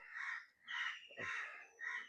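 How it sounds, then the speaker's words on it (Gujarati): A crow caws near a farm field: four loud, harsh caws in a slow, even sequence, close to the microphone, with a brief low thump between two of them. "કાગડો"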